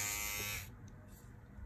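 A small dry-battery 2-in-1 lady shaver buzzes loudly at first, then cuts off, leaving faint low hum and background noise.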